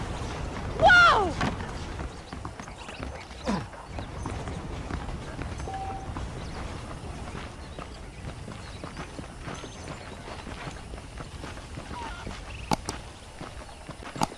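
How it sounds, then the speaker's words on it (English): Horse hooves clip-clop steadily at a walking pace in Red Dead Redemption, a western video game, with a loud snort or whinny near the start, saddle creaks, and occasional faint spoken dialogue over the rhythmic hoofbeats. "let's see if you can still ride a horse"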